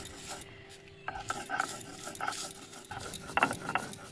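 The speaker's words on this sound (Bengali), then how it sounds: "মশলাটা বেটে নেবো নিয়ে নিলাম একদম মিহি করে বেটে নেবো শুকনোই বেটে নিচ্ছি" Dry spices are ground to a fine paste by hand, giving a quiet, steady rasping and rubbing scrape with irregular strokes and a few sharper scuffs.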